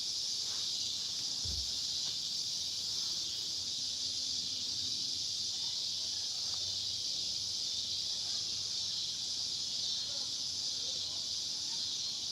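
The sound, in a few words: cicadas buzzing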